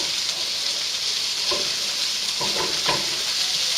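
Onions sizzle slowly in a hot pan: a steady, close frying hiss runs throughout, with a few soft stirring scrapes near the end and no voices.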